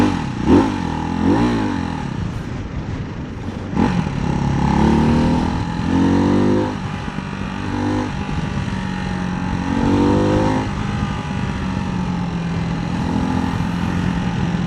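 A Ducati Hypermotard 698 Mono single-cylinder motorcycle engine revs up several times from a close, lumpy idle, each blip rising sharply and then falling back, with repeated throttle bursts spread across the clip.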